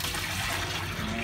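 Tap water pours steadily into a basin to bathe a kitten, a continuous close rush of splashing and gurgling.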